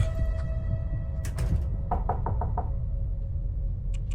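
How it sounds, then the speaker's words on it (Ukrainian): Knocking on a train compartment door in a video game: a quick cluster of sharp raps, then a steady run of five evenly spaced knocks, with a faint pair of taps near the end over a low rumbling background hum. "Хто стука?"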